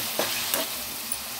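Tomatoes and green chilies frying in a pan give a steady sizzle, with a few soft scraping strokes as a spoon stirs them, close and continuous.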